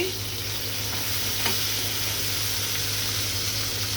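Shrimp frying with green chilies in a pan for a taro-leaf stir-fry, a steady close sizzle with one brief clink midway and no voices.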